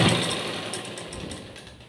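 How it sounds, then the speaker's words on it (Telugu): A sewing machine runs steadily while double-stitching the shoulder joint of a blouse, its motor giving a close, loud, continuous whirring drone that eases slightly toward the end, with no talking. "షోల్డర్ జాయింట్ డబుల్ స్టిచ్ వేసుకోవాలి"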